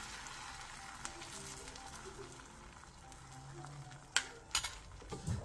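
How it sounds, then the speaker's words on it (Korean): Beaten egg poured into an oiled pan over medium-low heat, frying with a soft, steady sizzle and faint crackle, followed by a few sharp utensil clicks near the end. "팬에 기름을 두른 뒤 계란물을 부어 중약불에서 부쳐주세요."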